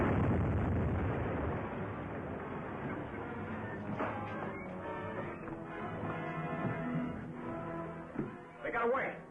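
An explosion in an old 1930s-style film serial: a heavy, muffled, low-fidelity blast rumble that fades into roaring noise and scattered bangs, with voices mixed in.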